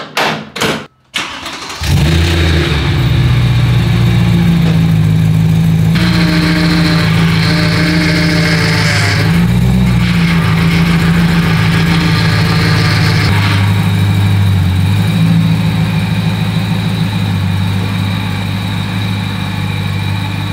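A custom BMW E91 M3 wagon cranks briefly, catches and settles into a loud, steady idle with a deep low rumble that fluctuates slightly throughout.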